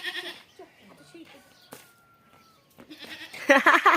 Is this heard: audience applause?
no